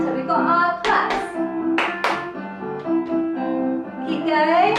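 A group in a music and movement class for Parkinson's claps hands in sharp, evenly spaced bursts over piano music, the claps close and loud against the melody.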